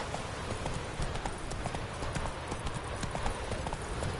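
Roach, the horse from The Witcher 3, galloping in the game, a fast and steady clip-clop of hooves, close and loud against a rushing background wash, with no speech.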